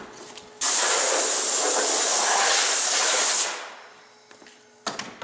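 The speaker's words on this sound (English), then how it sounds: "And we got an air hose over here." A compressed air hose blasts loose vinyl chips off a floor routing table: a loud, steady broadband hiss for about three seconds that fades away, with brief shorter puffs at the end.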